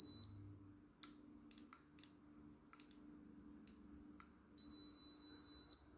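A KAIWEETS KM601 digital multimeter gives a continuity test beep: a high, steady tone near the start, then a longer sustained beep toward the end, with scattered clicks from probes tapping in between and no talking.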